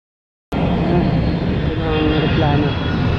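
An EVA Air airplane flies overhead near an expressway construction site, a loud continuous roar of aircraft engines starting abruptly and holding steady close by.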